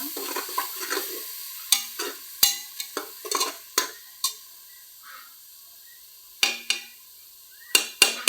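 Masala frying in oil for mushroom biryani, heard as a quiet background sizzle broken by sharp scraping and knocking strokes of a spatula stirring in the pan, irregular and close.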